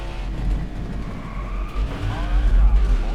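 A race car in NASCAR Heat 5 skids sideways, with tire squeal and a droning engine rising toward the end, heard over game ambience.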